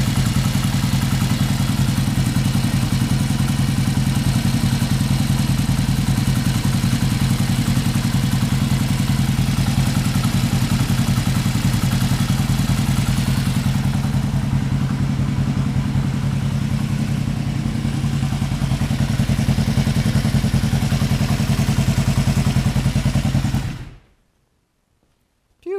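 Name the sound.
Yamaha XS500 motorcycle engine idling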